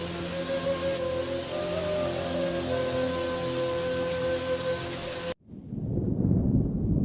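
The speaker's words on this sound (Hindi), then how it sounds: "लगता है आज तेज बारिश होने वाली है" Heavy rain pours steadily with rolling thunder in a cartoon scene, a loud continuous downpour that cuts off abruptly into a deeper, rumbling burst of storm noise.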